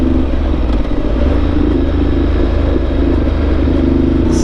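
A Ducati motorcycle being ridden, its engine giving a loud, steady, throbbing drone close to the microphone with a rough pulsing texture and no talking.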